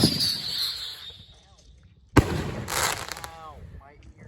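A firework bursts in a sharp sudden bang partway through, heard in a Minecraft-style game with loud talk and noise around it and faint chirpy sounds afterward.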